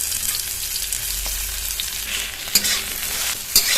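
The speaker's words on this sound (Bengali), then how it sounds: "আলুটা কিন্তু খুব ভালো করে কষিয়ে নেবো" Mashed boiled potato stir-fried with spices and slit green chillies in a pan, a steady close sizzle with scraping stir strokes and a couple of sharp clatters near the end.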